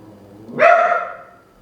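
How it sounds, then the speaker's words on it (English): A single loud, close dog bark rising sharply and fading over about a second, with no other sound around it. "So Archie's gonna bark"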